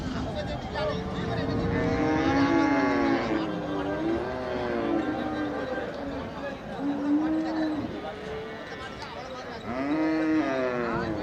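Cattle moo at a busy cattle market, with long, drawn-out, wavering calls rising and falling over a constant background of crowd chatter and voices.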